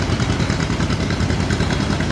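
A tractor engine idles at a 2013 Denton Farmpark parade of 100 tractors on a 23-mile route, a loud, close, continuous rumbling drone with no voices.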